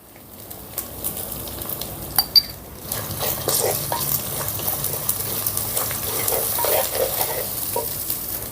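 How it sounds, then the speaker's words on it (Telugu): Ginger garlic paste frying with turmeric and salt for a chicken curry, a quiet start giving way after a few seconds to steady sizzling with frequent spoon-and-pan scrapes and clinks throughout. "అల్లం వెల్లుల్లి పేస్ట్ చక్కగా ఫ్రై అయిందండి"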